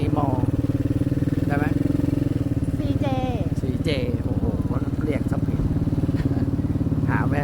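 A motorcycle ridden in first gear, its engine droning steadily and close by for the whole stretch, with voices talking over it throughout.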